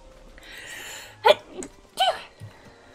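A single close sneeze with a sharp burst and a smaller follow-up puff, heard alone against near silence during a casual gaming session.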